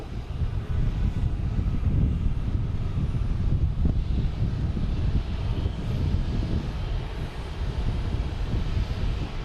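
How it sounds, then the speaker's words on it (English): An American Airlines Airbus A321neo jet passes at an airport with a broad, rumbling engine roar that swells and holds, heard from outdoors with some wind buffeting the microphone and no talking. "American Airlines heading to Miami in A321neo"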